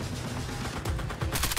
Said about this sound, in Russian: Первый раз стреляю.